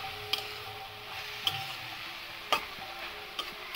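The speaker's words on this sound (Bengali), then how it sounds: "কালো জিরা, কাঁচা লঙ্কা দিয়ে শাক বসাই দিচ্ছি।" Greens tossed into a pan with nigella seeds and green chili, a quiet steady sizzle broken by a few sharp spatula taps against the metal.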